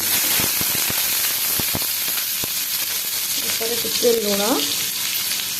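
Potatoes frying in hot oil in a kadai, a steady sizzle with scattered crackling pops, and a few short vocal sounds near the end.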